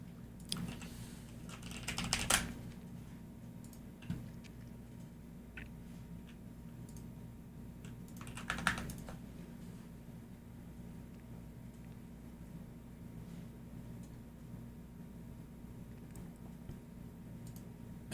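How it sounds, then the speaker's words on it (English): Someone types on a computer keyboard in scattered, soft clicks, with a couple of brief louder bursts of keystrokes over a constant low room hum. "Am I typing this incorrectly?"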